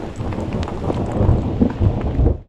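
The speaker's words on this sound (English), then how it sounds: "as the slickers come out and the rain comes down" Dense, rumbling rain and wind noise outdoors on a horseback ride in northern New Mexico, loud and continuous, with low thuddy gusts before it fades out at the end.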